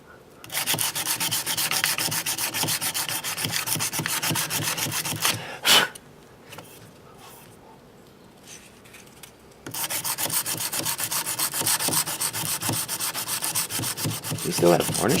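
Sandpaper rubbed hard over a wooden bass guitar part, rapid steady back-and-forth scratching for several seconds, a pause with faint handling, then the close, loud sanding resumes.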